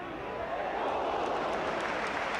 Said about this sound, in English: Well, it drew an ooh from the crowd.